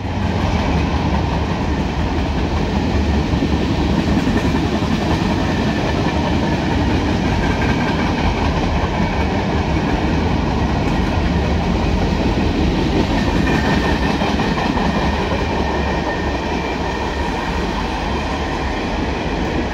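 A long CSX mixed freight train with boxcars, including a Chicago North Western car, rolls past close by. It makes a loud, continuous rumble and rattle with steady wheel noise throughout.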